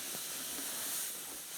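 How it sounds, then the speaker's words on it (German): Steam hisses steadily as a wooden lyre side is heated with water for bending in a craft workshop, a broad continuous hiss with no talk over it. "durch das Erhitzen dringt von beiden Seiten das Wasser, dampft in die Zarge hinein"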